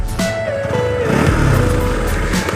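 An NS200 motorcycle engine idles close by with a steady, throaty rumble that swells slightly midway.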